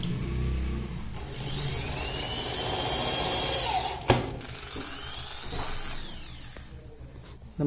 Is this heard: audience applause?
no